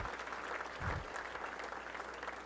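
Quiet, steady applause from an audience at a basketball hall of fame awards banquet, a continuous patter of clapping heard from a distance.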